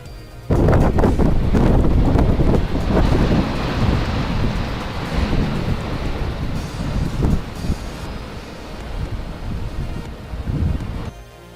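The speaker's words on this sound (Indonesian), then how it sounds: "lihatlah bagaimana badai hurricane menghalau air laut ke daratan." Hurricane winds drive storm-surge sea water inland into a city, a loud continuous roar of wind and crashing, rushing water that surges strongly at first, then stays dense and turbulent before cutting off.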